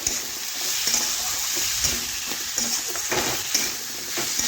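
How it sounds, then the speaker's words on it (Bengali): Pointed gourd and small cut potatoes frying together with spices in a pan, a continuous close sizzle with repeated scraping stirs every second or so, no speech. "এখন সমস্ত কিছু একসাথে বেশ কিছুক্ষণ একটু ভেজে নিচ্ছি।"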